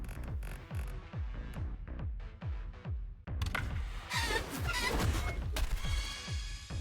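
Chickens cluck in a Far Cry 6 video game cockfight, a steady run of short rhythmic fowl calls over game background noise, growing busier and louder in the second half with crashing scuffle sounds.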